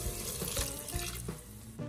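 Water pours steadily from a cup into a pressure cooker pot while making creamy beef and macaroni, a continuous splashing rush with small bumps, close and fairly quiet, no talking.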